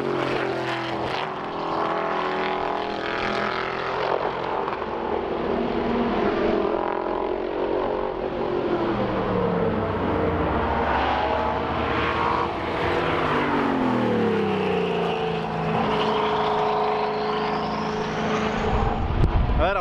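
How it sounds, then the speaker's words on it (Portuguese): A turbocharged Dodge accelerates on the Interlagos race track during a track day, a loud continuous engine roar with rising and falling pitch as it passes nearby, turbo whistle climbing toward the end. "Olha o barulho de turbo desse negócio, que animal."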